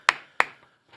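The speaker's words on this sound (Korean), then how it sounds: "이거는 나 진짜 이건 무조건 박수야." Two sharp, close hand claps in quick succession on a talk-show set, followed by a faint soft tap, with nothing else around them.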